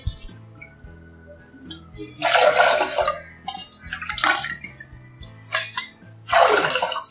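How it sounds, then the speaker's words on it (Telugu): Water is poured into a pressure cooker holding rice and dal, heard as several short splashing bursts separated by brief pauses, close and moderately loud. "నీళ్లు పోసుకుని ఉడికించుకోవాలి."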